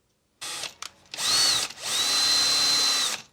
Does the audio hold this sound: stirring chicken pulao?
no